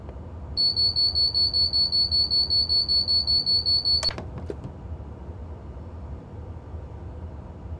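A cab alarm in a Virgin Class 390 train within Train Simulator 2020 sounds as a steady run of rapid, evenly spaced high beeps for about three and a half seconds, then cuts off into a brief clunk and a low, quiet hum.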